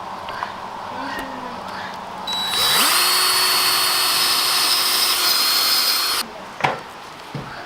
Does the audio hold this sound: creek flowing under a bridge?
no